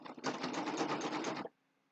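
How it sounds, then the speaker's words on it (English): A serger sewing machine stitching fabric for a zipper bag with boxed corners runs steadily for over a second, a fast buzzing whir close up, then stops abruptly into near silence. "So let me stitch down a little further."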